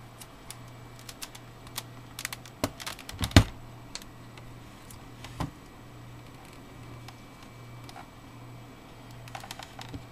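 Computer keyboard keys tapped in scattered bursts while restarting a PC to install Windows 8 Developer Preview, sharp clicks with pauses over a steady low hum.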